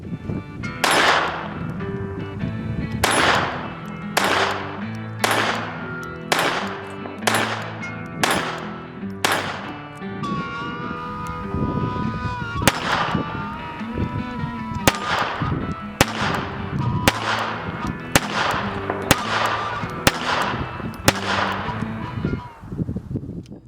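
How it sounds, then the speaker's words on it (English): A Beretta Model 21A pistol is fired repeatedly in sharp, loud reports: about a dozen shots in uneven groups with short pauses between them, each shot followed by a brief ringing decay. "The pistol's loaded and it's ready to fire at this point."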